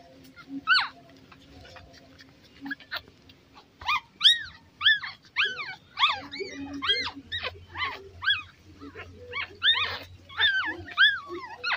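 Several shih tzu puppies whimper and squeal repeatedly, overlapping high-pitched cries coming in clusters, fairly close, with soft background noise.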